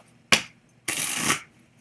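Tarot cards being shuffled, two quick close riffling bursts, a short snap followed by a longer flutter of cards.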